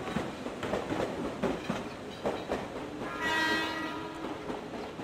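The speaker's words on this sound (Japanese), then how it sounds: "下り電車が到着いたします。" Train pulling into a station on a rail line, with rhythmic clickety-clack of wheels over joints under a low rumble, and a tonal horn or whistle sounding midway as the cars roll by.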